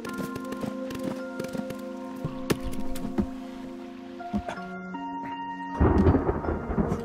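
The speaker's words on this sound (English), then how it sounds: "Oh my god, it's raining again." Rain and rolling thunder in a building and survival video game, low rumbles and a patter of rain beneath layered game music tones, with a louder burst of rain and thunder near the end.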